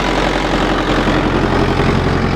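On a farm, a 585 generator drives a 12.5 hp motor at about 1475 rpm, giving a loud, unbroken mechanical drone with deep rumbling undertones and faint vibration, heard alone.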